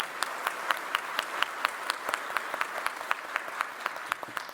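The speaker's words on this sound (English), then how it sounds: "Please, oh yeah, clap" An economic forum audience claps together in a hall, a steady patter of many hands at moderate distance with regular sharp accents, sustained and even throughout, with no speech over it.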